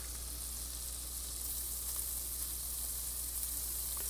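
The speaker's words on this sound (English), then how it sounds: "Gonna add my garlic." Garlic sizzles steadily in a hot pan for a cooking dish of chicken, garlic and tomato spaghetti, a constant bright hiss under a low hum with no talking.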